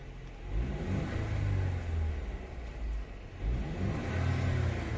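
A Mercedes-Benz C 200 AMG Final Edition (W205) revving in Sport Plus mode, its engine rising and falling in two loud, close throttle blips with a steady low growl between.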